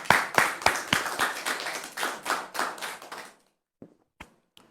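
An audience claps to welcome a guest, a brisk burst of close, sharp handclaps for about three seconds that stops abruptly, followed by a few isolated taps.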